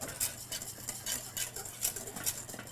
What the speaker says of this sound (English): And now we're just going to whisk this until it gets nice and thick.